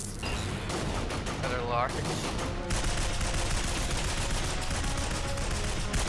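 Rapid bursts of automatic gunfire from cutscene weapons in the shooter game Binary Domain, dense and continuous throughout with a brief whistling tone early on and a voice speaking over the shooting.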